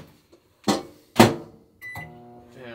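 A microwave oven clunks and whirs in short bursts, then gives off a bright electronic tone near the end.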